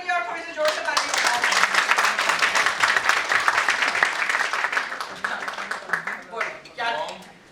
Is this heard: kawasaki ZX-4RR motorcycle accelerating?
no